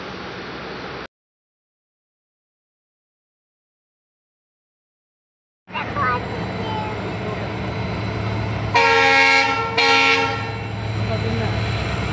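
A train rolls through a level crossing with a loud, steady rumble, and two long horn blasts sound close by near the end after a brief silent gap.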